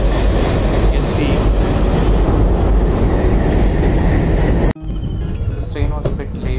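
Train rumbling loudly past at close range at a railway crossing near Thivim, Goa, with wind buffeting, then cutting abruptly to quieter surroundings with faint clatter and a voice.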